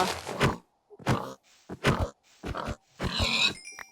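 Several short oinking grunts from a Minecraft pig in quick bursts with brief gaps between them, fairly close and loud, cartoonish.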